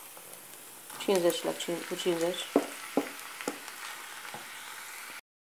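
Steady sizzling of minced beef and pork with garlic frying in a hot pan for moussaka, with a person talking over it at first before the sizzle continues alone.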